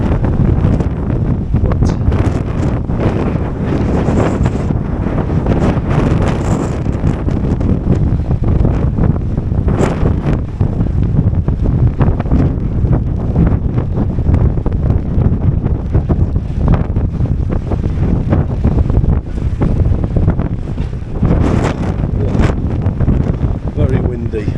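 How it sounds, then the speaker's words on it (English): Strong wind roars steadily across the microphone on the open deck of a ferry on the way to Santander, dense and buffeting for the whole stretch, with faint engine and sea noise beneath and a voice speaking briefly. "Very windy."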